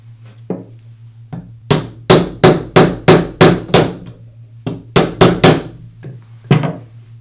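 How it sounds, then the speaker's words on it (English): A socket being hammered to tap a bearing into place in the gear housing cover of a Makita grinder, a series of sharp, loud metallic taps in two quick rhythmic bursts with a few lighter taps between. "use a socket that has a diameter the same as the outer race on the bearing to tap it into place"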